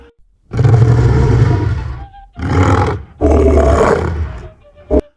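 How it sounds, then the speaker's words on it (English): A lion lets out three long, loud, rumbling roars close by, each separated by short pauses, with a brief sharp sound at the end. "The lion's cage was opened, and the beast stepped out, its roar echoing across the courtyard."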